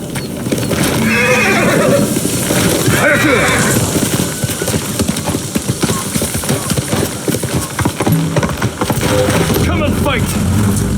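A horse in the samurai game Ghost of Tsushima neighs repeatedly over loud clip-clopping hooves and game action, with speech mixed in.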